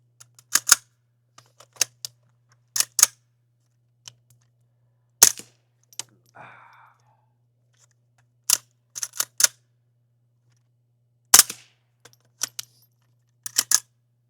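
Rifle fitted with a 3D printed suppressor fires a series of sharp, distinct shots in irregular clusters, loud and close, with near silence between them.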